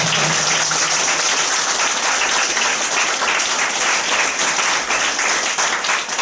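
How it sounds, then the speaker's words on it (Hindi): A church congregation at a Hindi-language sermon applauds steadily and loudly, a dense, continuous wash of many hands clapping together throughout with no break. "सबको समझ में आ रहा तो तालियां बजाएं"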